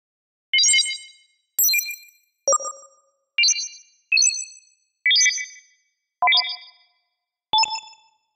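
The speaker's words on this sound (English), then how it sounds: "Or like a ring modulator." Eight short metallic synth tones processed through a ring modulator in Phase Plant, with clangy, inharmonic overtones, struck one after another at a steady pace, each ringing briefly before fading.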